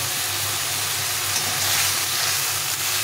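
Spices for a curry are stir-fried in a pan with added spice-rinse water, producing a loud, continuous broadband sizzle and hiss that holds steady throughout with a low rumble beneath.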